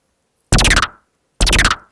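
A dry Vital synthesizer patch, no effects, plays two identical sharp percussive hits about a second apart, each bright and short with a quick decay.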